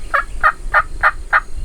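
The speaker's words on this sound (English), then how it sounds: "continually check the gobbler" A wild turkey gobbler in the Texas Hill Country gobbles five times in a quick, evenly spaced string, each call loud, clear and fairly close against a quiet outdoor background.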